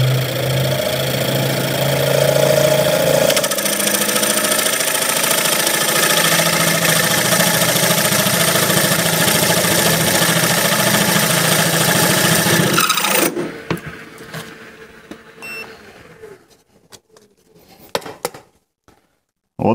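Brushless 400-watt allsome BG 516809 drill press spinning at 800 rpm, a steady loud motor whine with rubbing drilling noise for about thirteen seconds before it winds down and stops, leaving faint clicks and handling sounds.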